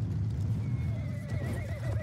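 A horse in the Battlefield 1 video game whinnies loudly over the thud of galloping hooves, the neigh rising and wavering near the end amid battle noise.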